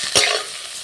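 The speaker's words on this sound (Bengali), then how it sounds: "এরপর দিয়ে দিচ্ছি ডাবের খোসাগুলো, তো ভালো করে ভেজে নেব।" Pieces of green coconut shell frying in hot oil with panch phoron whole spices, a quick stir-scrape followed by a steady close hiss of sizzling.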